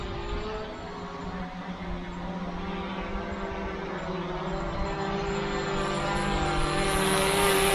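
4DRC M1 Pro mini drone in flight, giving a steady, even propeller whine and hum that holds at moderate volume and swells slightly toward the end, with no voices.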